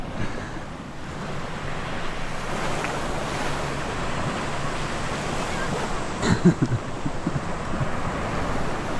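Steady wash of surf and wind rushing across the microphone, with a brief louder splash or buffet near the end.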